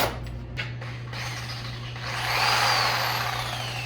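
A power tool that runs at a single maximum speed whirs up after a few brief knocks and rustles, its whine swelling and holding steady over a low constant hum, fairly close and without speech.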